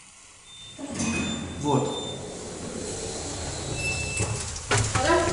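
An electric elevator with a 1.6 m/s speed rating arrives with a rising whir and rumble, followed by a mechanical clunk and doors sliding, heard at moderate distance while people talk.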